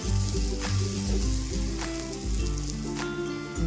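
Small fish fry in oil in a pan with a dense, even sizzle and crackle, while a loud tonal music bed plays throughout.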